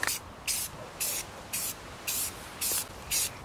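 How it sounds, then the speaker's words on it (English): A spray can laying self-etching primer onto metal parts during a YZ250 restoration, heard as seven evenly spaced short bursts of close hissing spray with brief quiet gaps between them. "So now I'm gonna give it two coats of self-etching primer."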